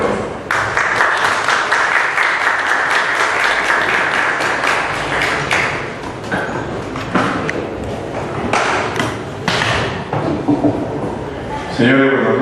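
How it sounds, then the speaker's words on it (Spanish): Audience at a congressional welcome session claps continuously for the speaker, a dense loud applause lasting several seconds with a few sharp thuds and scattered voices before it fades. "Un aplauso para el doctor."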